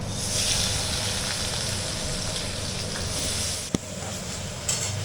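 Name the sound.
paneer pieces frying lightly in a pan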